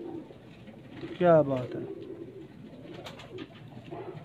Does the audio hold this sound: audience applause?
no